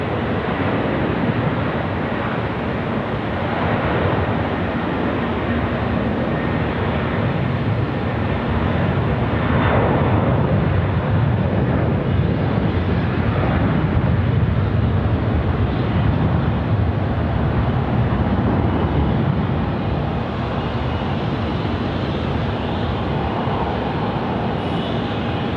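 Qantas airliner landing on runway 16 right at Sydney Airport: a steady, loud jet engine roar with broad rushing noise and low rumble that holds level and unbroken throughout, with no voices.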